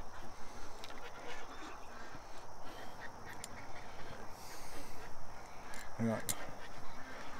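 Ducks quack on a back deck in short, scattered bursts, with a sharper nearby quack near the end, all mixed with background noise and a person talking.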